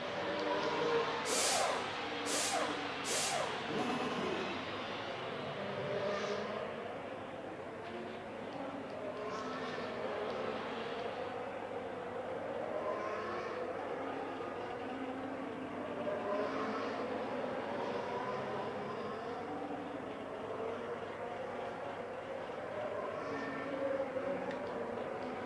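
F1 race cars in the F1 Manager video game, a steady engine drone running throughout with a few sharp high whines near the start and passing swells, under faint background sound.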